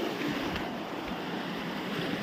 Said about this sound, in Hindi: इतना ज़्यादा पानी जा रहा